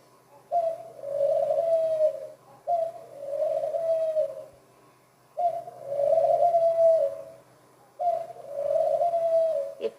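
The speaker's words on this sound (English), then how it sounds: "Listening to the cooing of the ringdoves." Ringdoves cooing as a radio-play sound effect, four long, close, steady coos separated by short pauses, heard alone without voices.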